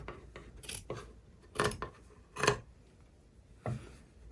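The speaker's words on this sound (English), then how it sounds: "Take my fabric scissors and cut." Several separate scissor snips and rasping cuts through fabric, close up, in uneven bursts with quiet pauses between.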